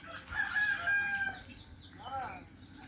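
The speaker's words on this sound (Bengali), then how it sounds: "এখানে তো অনেক মুরগি।" A rooster crows close by, followed by chickens clucking, with a faint murmur of activity around.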